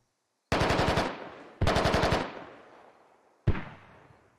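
Rifle fire from the video game Squad: two rapid automatic bursts, each about half a second, then a single sharp shot, with echoing decay trailing after each, fairly faint overall.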